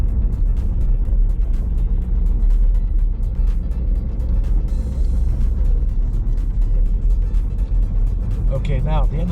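A car accelerating along a narrow country lane during a driving test, heard from inside the cabin as a steady, loud engine and road rumble. An instructor talks over it throughout.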